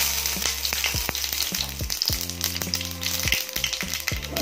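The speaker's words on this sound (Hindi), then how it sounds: "तो ऑयल हमारा गरम हो चुका है। इसमें हमें जीरा और ये मैंने राई ली है, तो ये डालेंगे।" Cumin and mustard seeds crackling in hot oil in a home kitchen, a steady close sizzle with scattered sharp pops, no speech over it.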